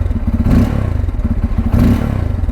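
A Bajaj Pulsar N250, a 250cc motorcycle, is revved close up from idle with two throttle blips, each a loud rising engine swell over a rapid, throbbing exhaust beat.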